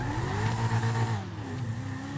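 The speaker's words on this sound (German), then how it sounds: "Also ich liebe diesen Motor von dieser Kokette einfach nur." The Coquette sports car in GTA V Online revs its engine with a strong, rising and falling droning tone, steady and close, without speech.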